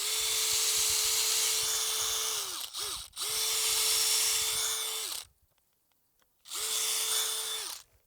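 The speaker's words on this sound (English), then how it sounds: "So I'm going to go ahead and pre-drill this." A power drill pre-drilling a hole whines at a steady pitch in long bursts, briefly stopping and restarting, then cutting out before one final run.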